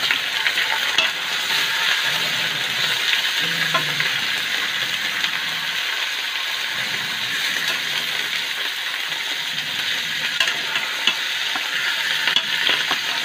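Pork belly pieces sauté in a pan as a steady, dense sizzle runs throughout, close and even, with scattered faint clinks and scrapes of stirring and no talk.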